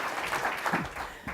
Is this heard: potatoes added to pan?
no